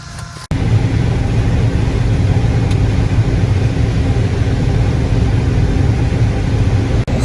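A combine harvester engine idles close by during a corn harvest, a loud, steady low rumble that starts abruptly and drones on evenly with a brief dip near the end.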